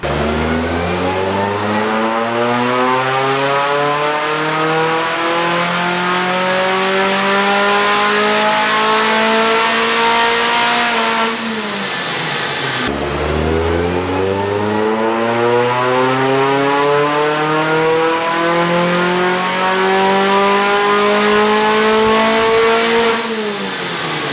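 Supercharged Mini Cooper R53 engine on a dyno run, revving in two long sweeps that climb steadily from low to high pitch before cutting off, loud and close with a rich harmonic drone.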